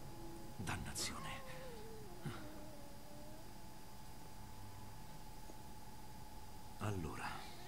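A cat meows in a few short cries and a drawn-out wavering call inside the video game Murdered: Soul Suspect, set against a steady noisy game background with faint voices.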